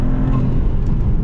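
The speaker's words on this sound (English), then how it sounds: "And the blow-off valves, listen to this." Twin-turbo V6 of a Maserati MC20 Cielo roars close and loud in a short burst of dense engine and turbo noise.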